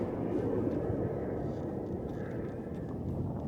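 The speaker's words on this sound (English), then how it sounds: "Nice flyby." Air Force aircraft flying past outdoors over a lake, a steady broad low roar that holds at even loudness throughout without clear rise or fade.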